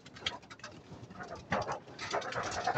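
Racing and breeder pigeons coo in a loft, with soft throaty coos and fluttering sounds repeating close by throughout.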